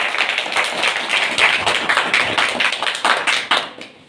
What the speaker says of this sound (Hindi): सभी बच्चे एक बार ताली बजाएं।